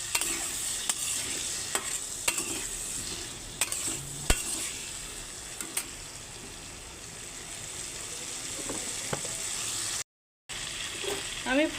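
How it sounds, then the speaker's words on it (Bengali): Potato pieces frying in a pan with salt and turmeric give a steady, moderate sizzle, broken by occasional sharp stirring clicks and a brief gap near the end. "এখন আমি আলুগুলোকে ভেজে নেবো"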